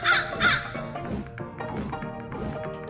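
A cartoon crow caws twice, loud and close, harsh calls near the start followed by quieter background sounds.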